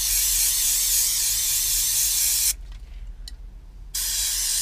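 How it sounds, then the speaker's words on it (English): Brake cleaner aerosol sprayed into a brake caliper, a loud close hiss that cuts out briefly for about a second and a half before resuming. "Get some brake cleaner in there."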